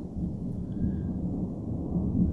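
Thunder after a lightning strike about 2–3 km away across the river near Joensuu, Finland, rolls as a steady, deep rumble through the whole clip with no talking.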